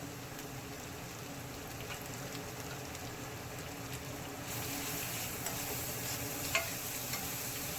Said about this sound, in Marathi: त्याला मिक्स करून घेऊया पूर्ण तेलामध्ये